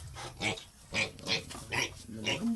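A piglet oinks and grunts repeatedly while being bathed, with short rhythmic squeals about every half second, close and moderately loud.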